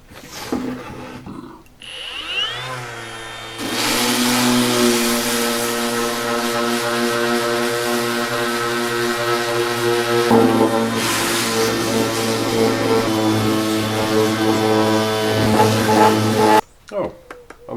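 A power sander works heavy on a plywood kids chair, a steady loud whirring drone that runs nearly the whole stretch after a short start-up, with a brief pause and change in pitch midway, alone without talk.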